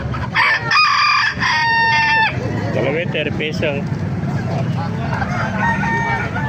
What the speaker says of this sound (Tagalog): Nakakaiba at pambirang manok.